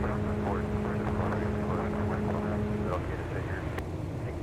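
A former Northwest Delta Air Lines A320 arriving from New Orleans gives a steady, distant engine roar with a faint tonal hum, fairly quiet and continuous.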